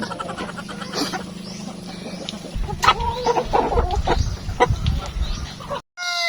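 Pet egg-laying hens cluck and squawk close by in a steady, busy stream, with a brief sharp cry near the end and faint background noise.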